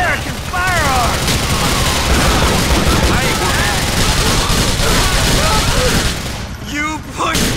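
Rapid bursts of gunfire from American firearms crackle through a chaotic GTA The Lost and Damned shootout, loud and continuous, with voices shouting over the din.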